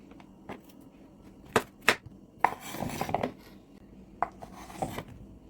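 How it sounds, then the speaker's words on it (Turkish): A knife trims the ends off cucumbers for pickling, giving several separate sharp chopping knocks with scraping in between, close by and fairly quiet, with no voices. "Salatalıkların uç kısımlarını şöyle temizliyorum."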